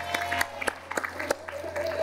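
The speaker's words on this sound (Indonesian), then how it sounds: "Boleh berikan tepuk tangan buat Maria." A studio audience on a TV dating show claps for an expressive poetry reading, a short burst of scattered applause with a host's voice talking over it.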